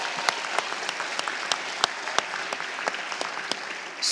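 Applause at a graduate hooding ceremony, a moderate crowd clapping steadily with distinct sharp individual claps standing out, heard from a distance in a large hall.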